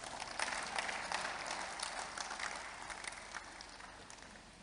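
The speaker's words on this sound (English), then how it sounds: "If you can clap your hands" A church congregation claps during a sermon, faint, distant applause that swells briefly then gradually fades away toward the end.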